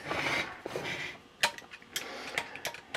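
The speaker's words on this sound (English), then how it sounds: "Now we're going to start with the Phillips screwdriver right at the front here" A Phillips screwdriver works screws out of a car's six-disc CD changer, giving close, scratchy rasping and scraping broken by a few sharp metallic clicks.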